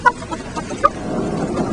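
A couple of short, sharp hen clucks from rescued egg-farm hens stand out close by over a low background murmur of more birds.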